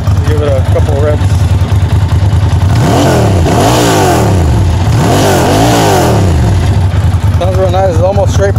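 Loud, close revs from a 1999 Ducati Monster 750 motorcycle engine with near-straight pipes and baffles, two sharp throttle blips rising and falling over a steady idle.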